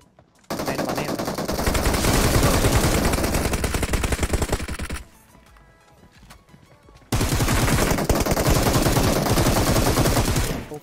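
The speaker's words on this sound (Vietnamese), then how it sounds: "Đây là bắn em." Automatic gunfire in the video game PUBG Mobile: two long, loud bursts of rapid shots separated by a brief quiet gap.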